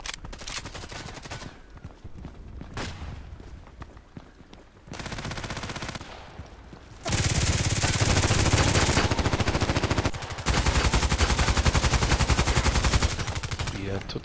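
Heavy IAR automatic weapon firing in a shooter game, long loud sustained bursts of rapid gunfire with brief pauses between them, fairly close.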